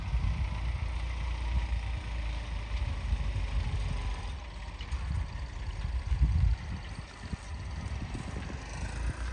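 Two tractors approach with engines running, a low, faint engine rumble that swells and fades unevenly, heard from some distance outdoors.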